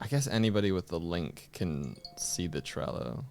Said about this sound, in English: Was that a bell sound? I think that was my phone.